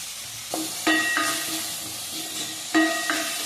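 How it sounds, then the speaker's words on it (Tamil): Onions sauté in a pan with salt and green chili, giving a soft, steady sizzle with a few brief clinks and scrapes from stirring, fairly quiet and close. "இப்போ வெங்காயம் லைட்டாக வதங்கிடுச்சு."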